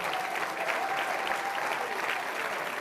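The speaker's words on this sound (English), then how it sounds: "Please stand up and please have a round of applause." An awards ceremony audience applauds in a dense, sustained burst of clapping that fills the room evenly for a few seconds, with a faint voice underneath.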